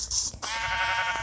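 A sheep in a video game gives one short, nasal bleat, loud and close, with a brief break before a longer wavering cry.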